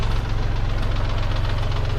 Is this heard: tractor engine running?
yes